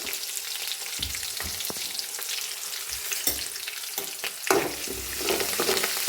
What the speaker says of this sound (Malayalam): ചെറിയൊരു ബ്രൗൺ നിറം ആകുമ്പോഴത്തേന് ഫ്ലെയിം ഓഫ് ചെയ്യണം പിന്നെ വെളിച്ചെണ്ണയുടെ ചൂടുകൊണ്ട് ഉള്ളിയൊക്കെ മൂത്ത് വന്നോളും